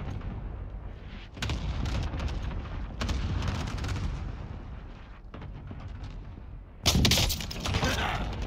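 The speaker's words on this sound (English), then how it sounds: "cluster strike incoming. Take cover." Cluster strike explosions in Call of Duty Warzone, heavy booming blasts rolling in a dense barrage with sharp onsets, loud and close, one bigger burst near the end.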